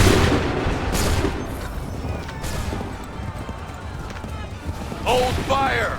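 Musket volleys fired by soldiers in Assassin's Creed III, a few loud cracking booms with rolling echoes amid battle noise, plus shouted commands.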